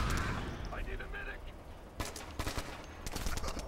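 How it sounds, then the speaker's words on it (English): Bursts of game gunfire from Ghost Recon: Future Soldier multiplayer, scattered loud volleys and single shots over a busy combat backdrop, with a voice talking early on. "We're being shot at."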